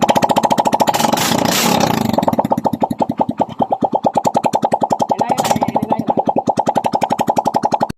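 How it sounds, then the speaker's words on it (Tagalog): A Yamaha Mio i 125 scooter engine, newly fitted with a 59mm cylinder block, cranks and catches, then settles into a steady, rapid idle with evenly spaced pulsing firing beats, close and loud with no talk. "Yun no, umandar ang kanyang motor"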